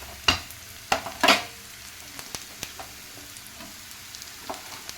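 Capsicum hitting golden-brown onions in hot oil, with a few sharp crackling bursts early on, then a low, quieter sizzle and scattered small pops without any talking.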